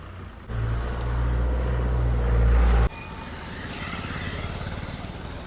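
Street traffic passes through a market area in West Siang District, Arunachal Pradesh. A loud, close engine drones and then drops off sharply, leaving a steadier background rumble of passing vehicles.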